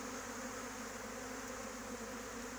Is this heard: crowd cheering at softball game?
no